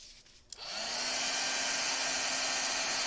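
A heat embossing tool starts up after a short click and runs as a loud, steady blowing whir, warming gold embossing powder on a handmade holiday card.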